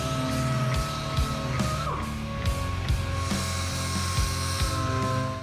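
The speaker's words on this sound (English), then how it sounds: "This may include using a DA and some hand sanding in the hard to reach areas." A DA sander works over the paint on an abandoned Chevy Silverado truck, a continuous high whirring with a steady hum and small rhythmic dips as the pad moves across the panel.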